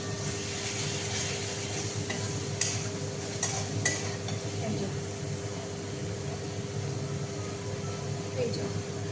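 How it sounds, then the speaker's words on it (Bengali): Spice masala cooking for khichuri in a pan, with a continuous moderate sizzle, a low hum and a few sharp spoon knocks against the pan. "চলো এটা কষানো হোক"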